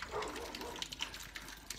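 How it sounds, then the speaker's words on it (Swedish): Old beer is poured out of an opened bottle, a short faint splashing and gurgling of liquid running into a sink, heard alone. "Ja, vi häller ut lite öl här."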